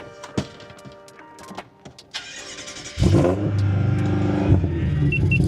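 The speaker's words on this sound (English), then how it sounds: "Car is starting." A 2017 BMW M6 starting up after a key programming job, a sharp engine catch about three seconds in that flares into a loud rev and settles to a steady idle, preceded by quieter clicks and beeps.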